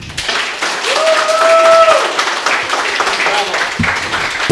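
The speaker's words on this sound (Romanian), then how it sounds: "Iar acum gălăgie și aplauze" A studio audience at a Romanian game-show semifinal cheers and applauds loudly and steadily throughout, with a brief whistle-like tone rising above the crowd noise early on.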